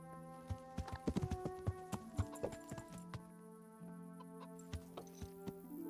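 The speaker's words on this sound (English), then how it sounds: "At least the chickens are alright." Chickens in Kingdom Come: Deliverance cluck and squawk in short, scattered bursts, mixed with clip-clopping horse hooves nearby; the clucking is clear and close, thinning out toward the end.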